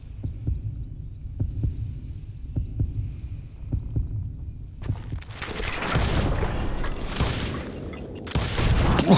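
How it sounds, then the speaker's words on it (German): Gunshots in the western shooter game Call of Juarez: Gunslinger, sharp isolated shots against a quiet bed with a ticking sound, then a louder burst of action noise and clatter. "Drei Schüsse habe ich gebraucht."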